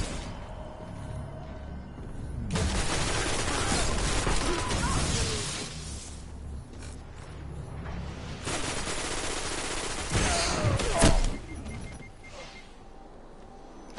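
Rumbling explosion bursts and rapid gunfire in the first-person shooter Destiny on PS4, loud rolling blasts in several waves over the stretch, no voices.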